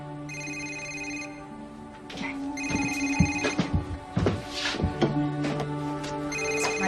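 A telephone rings again and again in a quiet room, each ring carrying a steady electronic tone. Brief background noises and movement fall between the rings.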